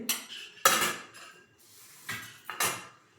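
Plates and cutlery clatter while food is dished out at home, with two clusters of close, bright clinks and scrapes separated by a quiet gap, no talking.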